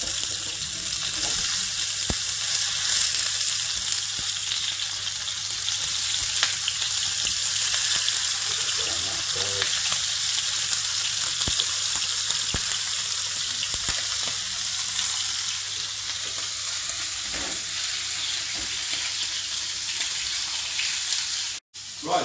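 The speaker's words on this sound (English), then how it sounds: "it is quite hot with the oil bubbling everywhere" Beef short ribs fry in hot bubbling oil with a loud, continuous close-up sizzle and crackle that holds steady throughout, with no voice.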